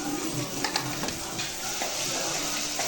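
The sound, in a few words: onions frying in a pan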